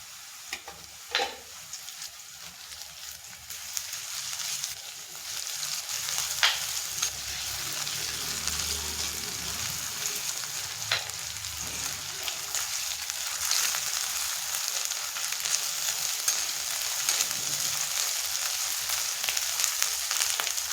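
Onion half-cooked in a pan with ginger-garlic paste and cumin added, frying in a steady bright sizzle with occasional stirring scrapes, no voices.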